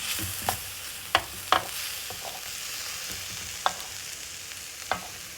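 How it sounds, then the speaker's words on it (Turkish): Garlic being stirred in a frying pan for a mushroom chicken sauté: a soft sizzle underneath with several sharp spatula scrapes and taps against the pan, spaced irregularly and close by. "Sarımsağımızı da aldım. sürekli karıştırıyorum."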